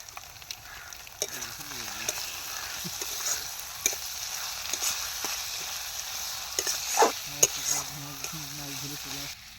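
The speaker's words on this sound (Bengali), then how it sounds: "মশলাটাকে জবরদস্ত করে কষাতে হবে।" Spice masala of turmeric, Kashmiri chili and coriander powder stir-fried for butter chicken in an outdoor riverside kitchen, a steady close sizzle with scraping stirs and occasional clinks, alone.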